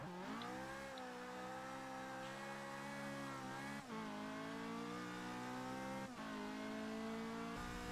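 A Ford GT LM or Ferrari GT LM race car in Forza Motorsport 6 holds a steady high engine whine with gear shifts and tire squeal under braking as it locks up and slides into a chicane, loud and continuous with no talk.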